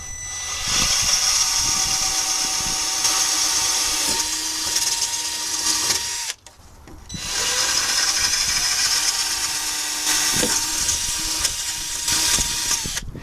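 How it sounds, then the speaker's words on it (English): A power drill bores holes for a siren bracket mount on a police interceptor project car, running in two long, loud, steady whining bursts separated by a brief pause. "So let's get drilling."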